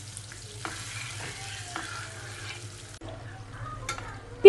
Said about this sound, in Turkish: Tereyağını güzelce karıştırıyorum